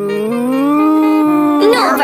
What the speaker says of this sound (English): No, Bartolito, that's a cow!